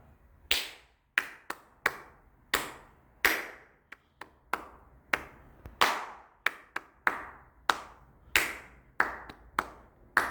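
Crisp, close hand claps beat out a rhythm for a Korean children's folk song, sharp separate strikes in an uneven patterned sequence against a quiet room.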